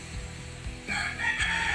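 A rooster crows once nearby, a short harsh cry, with a few low thumps and rustles around it, in the Philippines.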